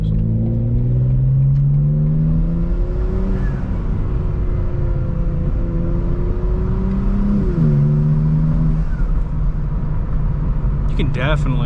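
2025 BMW M4 Competition with its S58 twin-turbo engine and ARMS Motorsports intakes, heard from inside while it accelerates and shifts, the engine droning and rising in pitch with turbo whoosh, as people talk over it.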